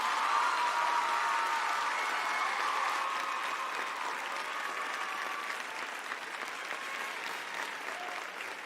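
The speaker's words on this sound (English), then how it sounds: "Let's give one more round of applause for our final 3 contestants." A large audience applauds continuously for contest finalists, a dense steady patter of clapping that eases slightly in volume over several seconds.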